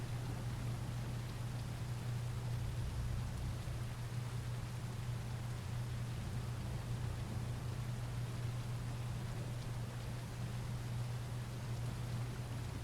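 Steady rain falls in The Isle video game, a constant even hiss of drops over a low droning hum, with no voices and no change in intensity throughout.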